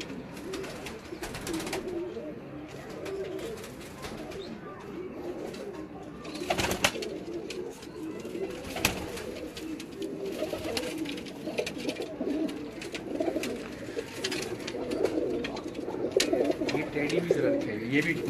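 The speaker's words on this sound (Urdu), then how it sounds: "دوستو یہ خلیفہ اسد بھائی کے بریڈر کبوتر ہے جو آپ یہ دیکھ رہے ہیں" Breeder pigeons belonging to a Multan fancier coo in a loft, low throaty calls repeating steadily over a continuous murmur of birds, with someone talking at times over them nearby.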